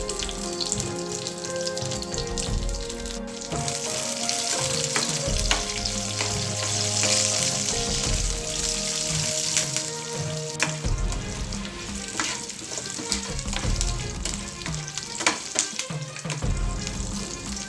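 Red chillies, garlic and curry leaves in a tempering fry in oil with a dense, continuous sizzle and crackle, joined by occasional stirring clicks, for a long stretch without speech.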